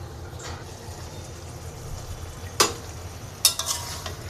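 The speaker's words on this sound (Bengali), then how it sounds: "মাটনটাকে ভালো করে কষিয়ে নিব।" Mutton stir-fried with spices in a pan, a low steady sizzle with quiet stirring, then two sharp clanks of a spatula against the metal near the end, close and with no talking.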